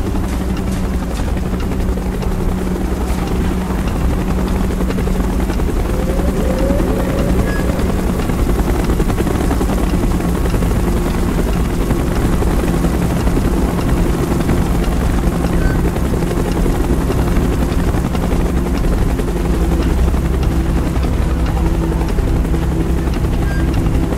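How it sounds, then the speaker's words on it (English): A helicopter in Call of Duty: Black Ops thumps loud and constant, its rotor and engine drone filling the whole stretch without letting up, with no talk over it. "Chopper's inbound! Move it!"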